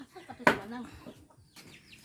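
Free-roaming chickens around a backyard hut with an annatto tree cluck in a few close bursts, one loud squawk standing out early, with soft background voices.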